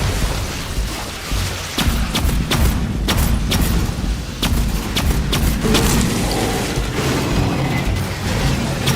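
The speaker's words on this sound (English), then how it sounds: "Grenade out!" Grenade blast in the sci-fi shooter Aliens: Fireteam Elite, a deep boom amid a dense, continuous battle mix of thumping impacts, gunfire-like cracks and mechanical noise that stays loud throughout.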